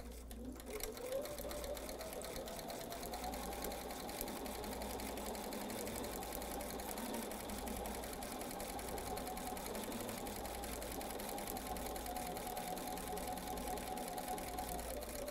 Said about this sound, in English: So let's go to the sewing machine and we'll do that right now.